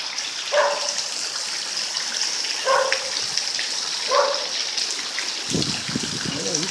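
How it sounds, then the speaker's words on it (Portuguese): Heavy rain falls at night on Avenida do Vaqueiro in Fortaleza, a steady broad hiss throughout, broken by a few distant dog barks and a brief voice near the end. "Caramba, como tá chovendo pra caramba."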